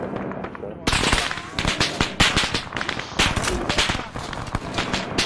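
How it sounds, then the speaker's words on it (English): Heavy gun fire in the military video game Arma, during a combat search-and-rescue mission on Altis: a loud, dense barrage of rapid shots and impacts that runs throughout, with voices faintly underneath. "We have a heavy gun south, heavy gun south."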